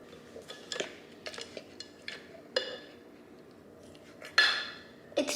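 A spoon scraping and clinking against a bowl while a Dole Whip mixture is stirred in a home kitchen, irregular taps and scrapes with a few sharper clinks toward the end, close and fairly quiet.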